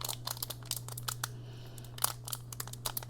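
A foil trading card pack wrapper being picked at and torn, with short crinkling and ripping bursts in an irregular rhythm, close and quiet over a low electrical hum.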